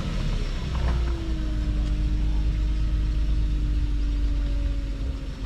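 A supercharged Toyota Altezza engine idles steadily at about 900 RPM with a low, even rumble and a faint whine, close by with no voices.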